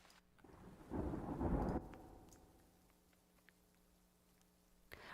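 A brief rumble of thunder with a burst of rain noise, fading into soft, steady patter and faint crackles.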